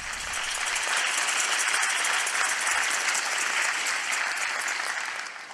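A large audience applauds Pope Francis during his speech in Assisi, Italy, a steady, dense wash of clapping that holds loud throughout and eases slightly at the end.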